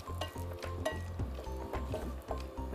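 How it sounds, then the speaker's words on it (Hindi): Cashews fry in a pan over a low flame, a soft, close sizzle broken by a rhythmic low thumping of stirring or scraping against the pan, with no talking. "जो काजू हैं उनको बिल्कुल धीमी आंच के ऊपर आप फ्राई करें"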